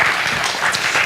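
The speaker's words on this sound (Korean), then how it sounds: "한번 박수로 힘차게 한번" A church congregation bursts into hearty applause during a Sunday service, many hands clapping densely and loudly throughout.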